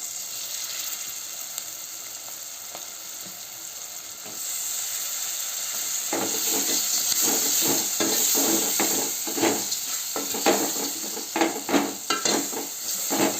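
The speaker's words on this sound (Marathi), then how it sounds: "त्याच्यामध्ये आता करूयात आपण टोमॅटो" Tomatoes fry in homemade masala for pav bhaji, giving a constant hissing sizzle that grows busier halfway through as a ladle stirs and scrapes in quick, repeated knocks. No one speaks.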